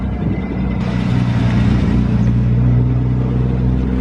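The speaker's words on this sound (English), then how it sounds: "E-Type rolling in as well." A classic Jaguar E-Type rolls in at a heritage centre car meet, its engine a steady, fairly loud low rumble that builds slightly over a few seconds amid the wash of other classic vehicles.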